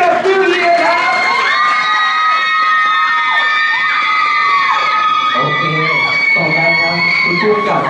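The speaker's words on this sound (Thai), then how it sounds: "ขอเสียงปรบมือกับนิวเยียร์ครับ" A crowd at a press event for a TV series, loud excited cheering and high-pitched shouts and screams rising in repeated bursts, with applause under it and a voice talking at moments.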